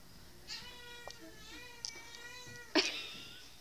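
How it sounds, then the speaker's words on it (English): A pet cat meowing indoors, a drawn-out meow followed by a few short chirps and a sharp louder meow near the end, close and fairly quiet. "What cat was that?"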